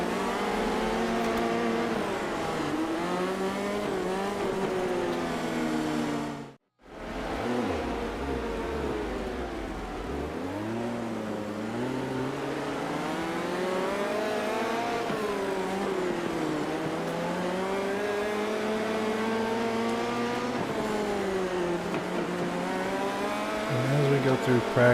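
Midget race car engines from World of Outlaws 24 at Elm Creek Raceway, a loud, close, sustained roar rising and falling through the laps, briefly cut to silence once, with someone talking over it.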